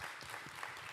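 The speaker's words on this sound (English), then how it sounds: "Let's give them a round of applause." Audience applause at a design forum event, a steady burst of clapping filling the room for about a second, close and fairly loud with no voices over it.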